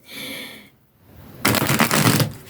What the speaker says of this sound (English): I'm just going to do one more shuffle.